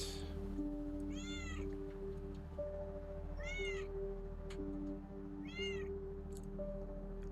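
A house cat meows three times in a steady rhythm, each call clear and close, over a constant low electrical hum with faint clicks in a quiet indoor room.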